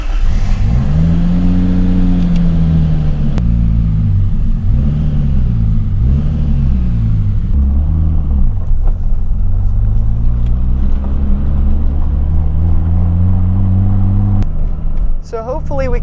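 Nissan 240SX with a 2JZ engine driving on the street, its loud close engine note rising and falling through repeated revs and gear changes, steady droning between pulls.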